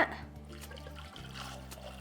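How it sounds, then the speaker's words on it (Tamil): Water pours into a pressure cooker holding colocasia (taro) roots, about 250 ml, as a steady close trickle and splash over a low continuous hum, with no talk. "வேகிறதுக்கு தேவையான அளவு தண்ணி சேர்த்துக்கோங்க"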